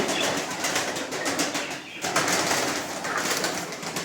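Tumbler pigeons coo steadily over a dense, noisy background of fluttering and rustling, with no talking.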